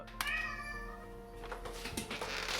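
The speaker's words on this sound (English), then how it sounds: "Some big stretches and big meows" A house cat lets out a couple of drawn-out meows close by while stretching, the calls rising and fading within a quiet room.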